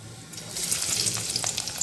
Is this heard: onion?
yes